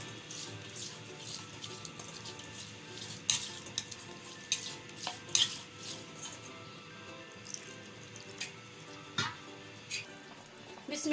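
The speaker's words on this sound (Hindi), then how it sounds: "आपने आटे को यहाँ पे अच्छी तरह से मिक्स करना है ताकि इसमें ना गुठलियां ना बने" Flour and water being stirred in a cooking pot for beef nihari, a soft, faint swishing with occasional light clinks of the spoon against the pot, steady and unhurried.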